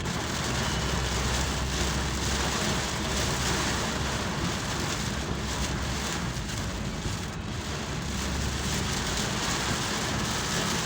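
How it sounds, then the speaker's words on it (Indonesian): Steady, heavy rain pours down on a toll road in a dense, continuous hiss with a low rumble underneath, unbroken for the whole stretch and no voices. "di jalan tol hujan gede"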